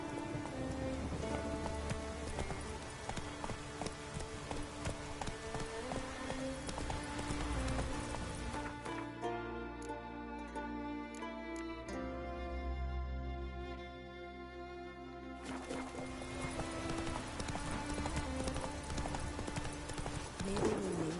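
A horse gallops in The Witcher 3 video game, its hooves beating a quick clip-clop rhythm under a thick rain-like wash of game sound and music, steady and loud.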